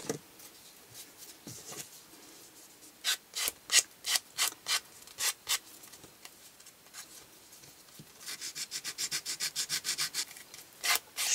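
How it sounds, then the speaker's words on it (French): A hand file rubs along the edges of a glued paper craft made from toilet paper rolls, in bursts of quick rasping strokes, a few spaced ones and then a fast regular run, close up with no talk. "Je vais quand même passer un petit coup de lime pour nettoyer les bords."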